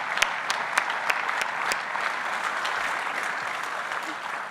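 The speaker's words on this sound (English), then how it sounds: "I think we've got to give them a big round of applause" An audience at the BIGGA Celebration 2024 awards night gives steady, sustained applause, with a few sharper individual claps standing out from the dense wash of clapping.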